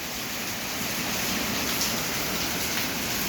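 Typhoon Uwan drives rain and wind in a continuous, even rush of hiss, moderately loud and unbroken, with no voices.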